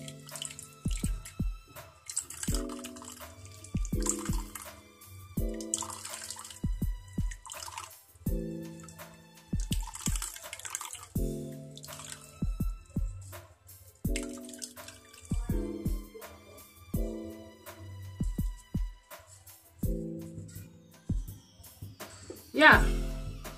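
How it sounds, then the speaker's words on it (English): Fenugreek seed juice being strained for a leave-in hair conditioner spray, heard as quiet repeated drips and trickles of liquid recurring in short bursts, with a voice talking in between. "So I'll go ahead and strain the juice out."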